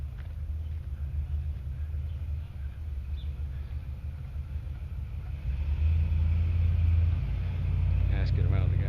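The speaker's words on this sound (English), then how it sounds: "There's somebody's loud car." A loud car passes, its low engine rumble growing heavier partway through, with talking over the top.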